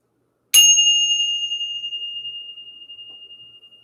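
A single bright bell struck once to clear out energy in a quiet room, ringing with a clean sustained tone that slowly decays over several seconds with no other sound.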